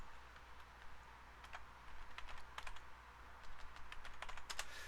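Computer keyboard keys tapped in quick irregular clusters, close and fairly soft, over a faint steady room hum with no talking.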